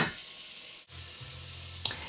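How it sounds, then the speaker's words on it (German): Chopped parsley sautés with diced bacon in a pan for Austrian-style Speckknödel, giving a steady close hiss of sizzling fat with no one talking. "Ich tue einmal nur die Petersilie dazu. Zum Andünsten"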